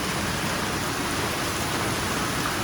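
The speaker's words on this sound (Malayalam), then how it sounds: "നല്ല മഴ" Heavy rain in Manjeri falls as a dense, constant hiss, close and even in loudness from start to finish, with no voices.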